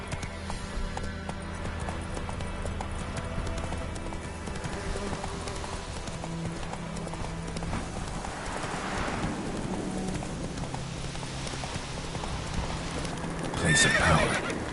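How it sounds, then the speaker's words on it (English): Hooves of the horse Roach clip-clop at a gallop in The Witcher 3, a steady rhythmic beat with a neigh and whinny breaking out near the end, over game ambience. "Whoa there, Roach."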